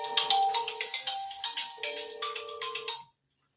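A phone ringtone plays a bright repeating electronic melody for about three seconds, close and clear, then cuts off abruptly into silence.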